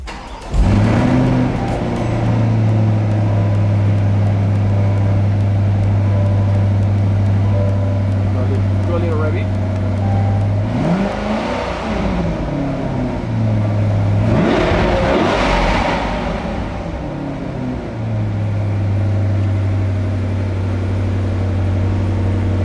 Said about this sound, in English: now we can turn on the car